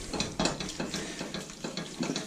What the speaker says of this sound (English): We're just going to finish the pasta off in the pan with the pepper.